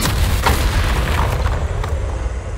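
A deep, rumbling explosion from the Bombarda spell in Hogwarts Legacy, loud and close, with a heavy low boom that trails off into debris noise.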